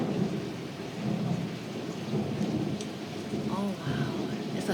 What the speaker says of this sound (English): Oh wow, it's a thunderstorm.